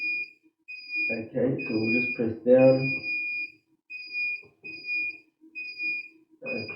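An S1 Advanced Aussie Brooder incubator alarm sounding as a steady high electronic beep that repeats in regular pulses, with a person speaking nearby over the early beeps.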